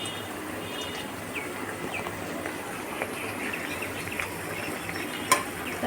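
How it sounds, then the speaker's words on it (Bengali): Nimki snacks fry in hot oil while being stirred, giving a soft, continuous sizzle with scattered light clicks and pops and one sharper tap near the end. The sound is fairly quiet and there is no talking. "এই দেখুন কিভাবে ভাজা হচ্ছে, হালকা হালকা ফুলে ফুলে উঠছে।"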